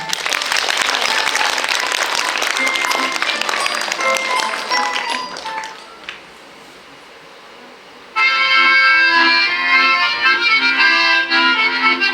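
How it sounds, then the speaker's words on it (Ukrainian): A festival audience gives the Komi-Voityr performers loud, dense applause for about six seconds before it fades, followed by a short quiet gap and then the start of bright music. "Давайте их встретим бурными аплодисментами."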